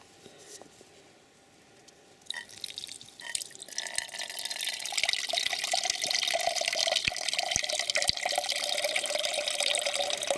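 Water pours from a container into a pot for mash at a wild forest campsite, starting after a quiet moment and then running in a steady, close splashing stream with no talk.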